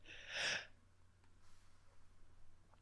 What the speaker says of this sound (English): Had to sneeze, sorry.